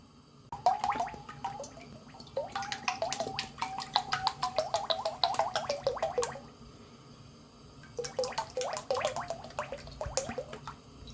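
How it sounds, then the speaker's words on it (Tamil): Oil poured into a kadai for frying boondi for Tirupati laddu, a close, gurgling, splashing stream running in two bursts with a short pause between. "வானல் காஞ்சி எடுத்து இப்போ எண்ணெய் ஊற்றிக்க வேண்டியதான்"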